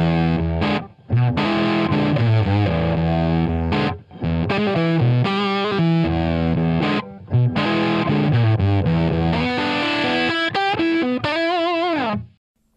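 A distorted electric guitar is reamped through an amp speaker cabinet by an Eleven Rack, playing loud, heavily overdriven riffs and chords with short pauses, close-miked and without talking.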